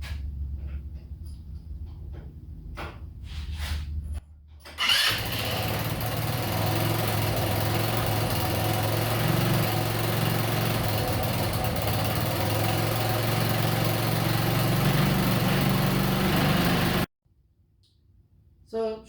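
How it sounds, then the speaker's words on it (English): A Kandi go-kart engine with its muffler refitted cranks with a few brief rustles, then catches around the five-second mark and settles into a steady, loud, buzzing idle before cutting off abruptly near the end. "let's go ahead and start it up and see how she sounds"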